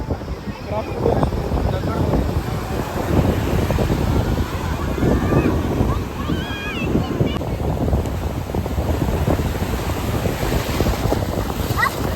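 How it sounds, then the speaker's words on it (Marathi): Foamy sea waves wash onto a crowded Candolim beach in North Goa, a steady roar of surf mixed with wind buffeting the microphone, with faint voices in the background. "मस्त दुधासारखा फेसाळ पाणी येत आहे"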